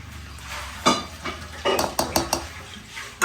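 Uttapam batter with onion, tomato and chilli being stirred in a bowl, a spoon knocking and scraping against the sides in a quick run of close, sharp clinks and thuds, with no voices.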